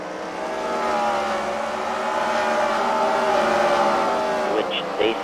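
Race cars at a Freedom Factory fight-night event coming out of a turn, engines droning loudly and steadily at racing speed as they pass, with a commentator talking over them.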